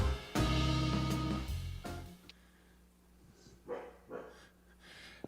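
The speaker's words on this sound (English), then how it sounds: "right now my dog is deciding that he wants to bark" A dog barks at home, two loud close barks at the start, then softer breathing and faint whimpery sounds trailing off.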